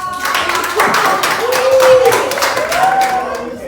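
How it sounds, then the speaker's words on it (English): Audience applause at a youth fellowship summer program, a crowd clapping steadily throughout with cheering voices and whoops rising over the clapping. "let's give him a thunderous round of applause"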